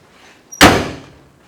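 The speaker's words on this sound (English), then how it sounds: "So we'll shut the trunk here and look at the rear bumper." The trunk lid of a 1965 Ford Mustang Fastback slams shut once, a single close, solid thunk that decays quickly in a quiet space.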